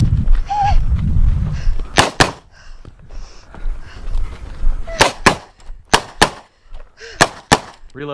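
Repeated sharp HawkTech Arms 1911 pistol shots at a match stage, loud and close, fired in an uneven sequence of single reports and quick pairs, with some faint voices between shots.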